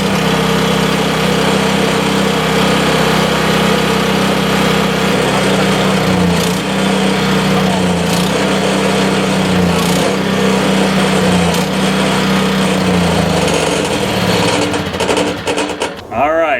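A YT624EJ lawn tractor engine runs steadily at a buzzing idle after starting, with small rhythmic surges and a brief drop at the very end.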